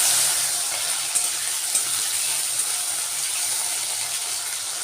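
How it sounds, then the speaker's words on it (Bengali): Taro stolons (gathi kochu) fry in hot oil with a steady, hissing sizzle and faint crackles, constant and fairly loud throughout, with no voices. "এরপর আমি এই তেলের মধ্যে গাঠিটাকেও ভেজে নেব"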